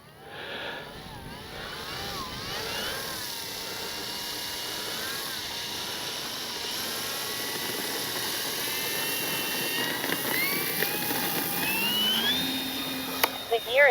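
A radio-controlled F4U Corsair warbird scale model plane drones in flight, a steady whining engine tone that rises and shifts in pitch as it passes, with a voice talking over it.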